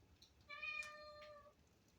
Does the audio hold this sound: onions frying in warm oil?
no